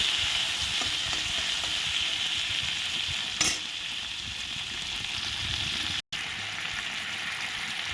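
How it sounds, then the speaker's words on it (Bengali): Chopped tomato frying in ghee gives a loud, continuous sizzle and crackle close by, with one sharp scrape of stirring partway through and no voices. "প্রথমে আমি দিয়ে দিব টমেটো কুচি একটু ঘিয়ের মধ্যে দিয়ে দিলাম"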